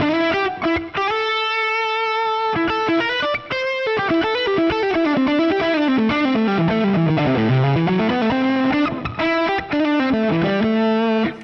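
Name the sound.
electric guitar through Fractal modeler's Fuchs Dumble-style amp model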